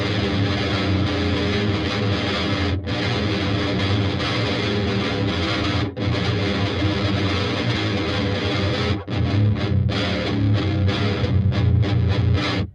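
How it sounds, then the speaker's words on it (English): An electric guitar pushed through a hydro fuzz plugin snarls with thick, saturated distortion, a dense continuous wall of tone broken by a few brief gaps and choppier stabs toward the end. "we have a hydro fuzz here. Let's turn this on. Ooh, we can get it nasty."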